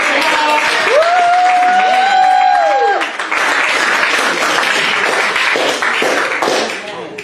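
A church congregation at a Wednesday evening service claps for the evening's teacher, a continuous wash of applause under a held sung or organ-like tone in the first seconds.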